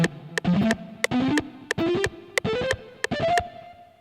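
Electric guitar plays a fast three-notes-per-string alternate picking exercise, ascending string by string with evenly spaced picked notes, loud and distorted, with no talking.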